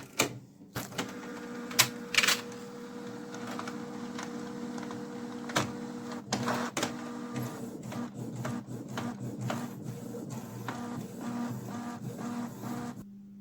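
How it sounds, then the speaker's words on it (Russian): A Canon PIXMA MX495 inkjet printer runs a test page, giving a steady mechanical hum with repeated clicks, whirs and paper-feed clunks up close, all without any voice. "Сейчас я буду распечатывать пробную страничку."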